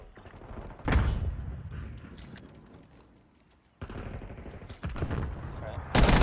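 Call of Duty online match gunfire, bursts of rapid shots and heavy booms loud in the foreground, a rumbling lull between volleys and a final sharp burst at the end.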